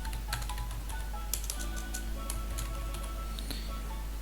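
Quick, light clicks of a computer keyboard tapping out short words in bursts, faint and close against a steady low hum, with no voice.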